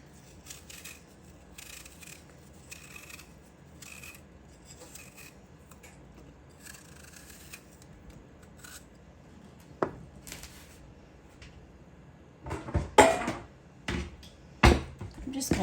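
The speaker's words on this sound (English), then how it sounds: "Then we're going to just go ahead and peel them" Apples being peeled by hand for a homemade apple pie, with soft repeated scraping and rasping strokes of a peeler, quiet at first, then louder knocks and clatters near the end as the peeled fruit is handled.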